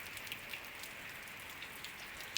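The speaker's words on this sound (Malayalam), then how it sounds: "ഈ മഴയും പെയ്തു. അടിപൊളിയായി." Steady rain patters down outdoors in a broad, even wash, with faint scattered drops and one sharper splash near the end, no voices present.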